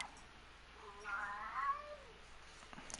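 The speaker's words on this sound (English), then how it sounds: "Oh, that's my cat. I don't know if you guys can hear him." A pet cat meows in a drawn-out, wavering call around the middle, moderately close and alone over a quiet background, during a truck racing game session.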